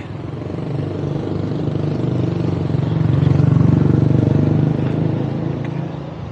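Road traffic passing by on a busy outdoor street, a steady engine rumble and tire noise that swells as vehicles approach and recedes, fairly loud and close throughout.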